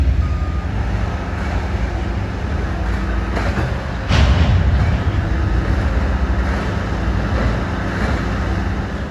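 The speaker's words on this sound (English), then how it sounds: "We have a cut of cars backing down the NS Cornick secondary." A cut of freight railcars backing down the NS Cornick secondary during flying switch moves on the Finger Lakes Railway, a loud continuous rolling rumble with a sharp burst near the middle, no voices.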